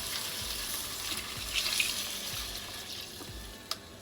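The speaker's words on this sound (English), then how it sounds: "we're adding in our beef stock, 4 cups." Beef stock, four cups, poured into a pot of flour-coated onions for French onion soup, giving a steady close watery splashing and trickle throughout, with a faint sizzle beneath.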